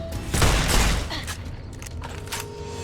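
Burst of gunfire in Fallout: New Vegas, a dense cluster of shots and booms up front that fades into scattered quieter pops and game ambience.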